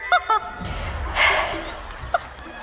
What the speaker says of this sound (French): Attache ces canards à tes pieds pendant 3 minutes.